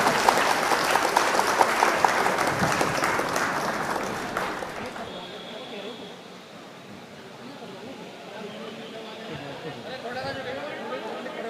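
Audience applause welcoming guests at an all-India mushaira ceremony in Khatauli: a dense crowd clapping loudly for several seconds, then thinning into scattered claps and murmuring as a voice speaks over a PA.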